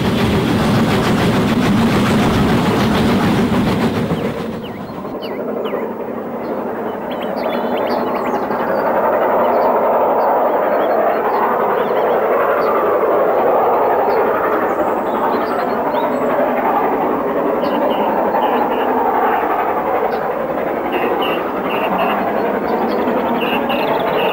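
Steam locomotive working hard, a loud and continuous roaring exhaust blast that carries on without a break, with no talk over it.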